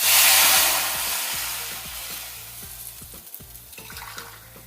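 Hot water poured into a pot for cooking Maggi noodles: a loud rushing splash at first that eases into a steadier pour, with light clinks and knocks of the vessel, no talking.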